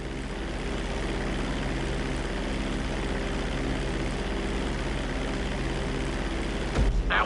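In GTA V, a propeller airplane flies with a steady, droning engine hum held at constant loudness, ending in a brief thump.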